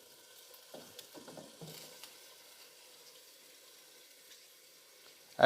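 Oil hitting hot coal set in cooking for smoky flavor, giving a few brief crackling sizzle bursts early on that fade into quiet, followed by a sharp clatter at the end.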